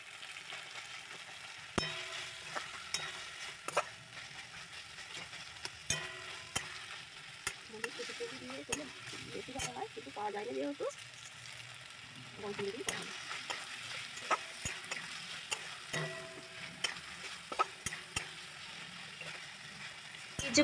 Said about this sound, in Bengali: আর এটাকে নাড়তে থাকতে হবে।